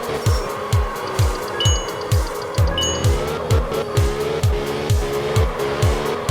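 Car engine in a drifting video game, revving in a steady rhythmic pattern of sweeping rises and drops, with tire squeal across the slides, loud and close throughout.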